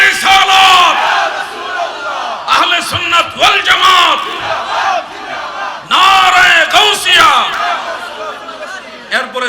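Large crowd shouting religious slogans in unison, Nara-e-Takbir answered by Allahu Akbar, loud and close with repeated surging call-and-response bursts and a lone voice leading between them.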